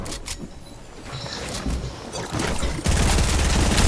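Laser gunfire from Fortnite, a fast crackling burst of shots that starts moderately loud and swells into a dense, louder barrage in the final second.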